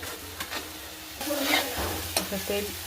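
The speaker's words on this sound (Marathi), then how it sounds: "टोमॅटो आणि कांदा मस्त तेलावर फ्राय करून घेत आहोत" Tomato and onion, with a ground ginger-garlic paste, fry in oil for pav bhaji, giving a steady close sizzle with scraping stirs and a few sharp spoon clinks. No one speaks.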